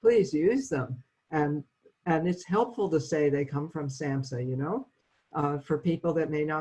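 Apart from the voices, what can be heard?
No everyday noises stand out.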